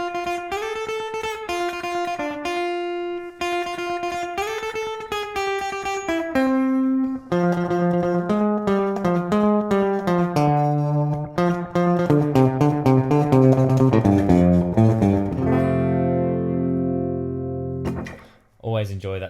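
Clean twangy electric guitar playing a lead break, a steady run of bright picked single notes climbing through the phrase, close and loud, then a brief pause and a final pluck.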